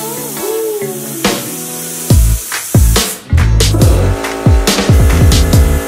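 A new spray paint gun hisses in bursts over a repaired car bumper on a Nissan 350z, with sharp clacks and knocks from handling between sprays; loud, close and without talk.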